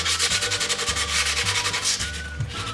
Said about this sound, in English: I usually run just a little bit of sandpaper over it